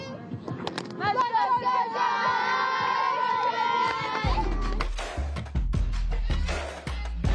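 Cheerleaders and a crowd chant a cheer at a high school football game, with voices together over a busy, noisy stadium backdrop, loud and continuous.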